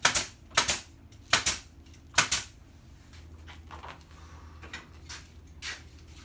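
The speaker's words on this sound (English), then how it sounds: "fire in a few staples to hold it" Staple gun firing staples through mass loaded vinyl into wood studs, sharp loud snaps coming singly and in quick pairs, followed by softer handling noises.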